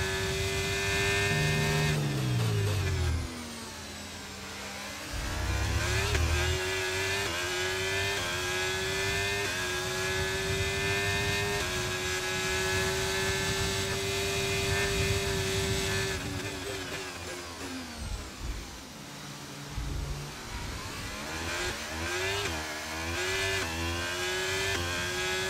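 Several race cars in a video game racing round at the Austria circuit, engines droning and revving steadily with tonal sweeps as they shift and pass, loud and continuous throughout.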